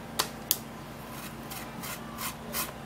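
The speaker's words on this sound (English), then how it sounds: "So you're going to be scraping the peel this way." Soft repeated scraping strokes on a banana peel, close and faint, with a couple of sharp ticks at the start and a steady rhythmic rasp afterward, no voices.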